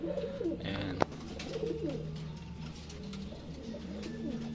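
Breeding pigeons coo at their nest, giving repeated throaty, rolling coos close by, with a single sharp knock partway through and a low background hum.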